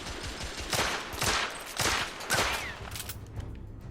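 Rapid bursts of gunfire from the video game The Order: 1886, several loud shots in quick succession with reverberant tails, running steadily without voices.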